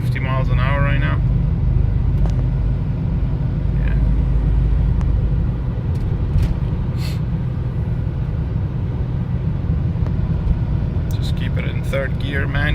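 A 2003 Volvo XC90 T6 SUV cruises at 45 to 50 mph in manually held third gear, with a steady loud engine and road rumble throughout and faint voices murmuring under the drone.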